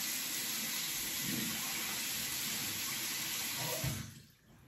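Warm tap water runs steadily over an Edwin Jagger 3ONE6 safety razor fitted with a Rapira blade, a close, continuous splashing stream that stops abruptly near the end.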